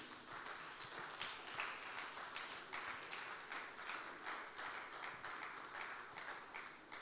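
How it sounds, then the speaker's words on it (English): Applause from an audience at a climate change summit breakout session, a continuous dense patter of many hands clapping, steady and moderately distant, with no voices over it. "I take this loud applause as evidence that the room is endorsing the communique"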